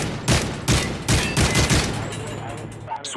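Bursts of gunfire from a Search and Destroy match in a competitive video game shooter, several sharp clustered volleys in quick succession at close range, fading to a quieter tail with faint background noise.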